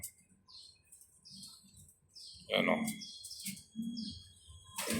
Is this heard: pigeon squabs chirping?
yes